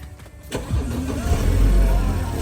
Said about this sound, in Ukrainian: Це в нас запуск на холодну